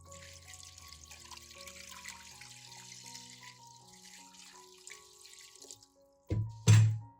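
Soft music plays, then near the end a short, loud gush of water pours into a pot holding pineapple peel, ginger and lemongrass, stopping after about a second.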